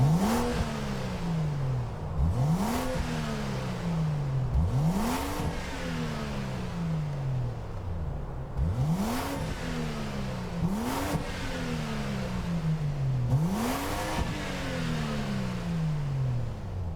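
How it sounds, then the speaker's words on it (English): A BMW Z4 3.0i six-cylinder engine in Gran Turismo 7 revs repeatedly, each rise in pitch falling back before the next, about seven steady blips, smooth and close. "Hear that 6-cylinder?"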